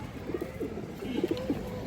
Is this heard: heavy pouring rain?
no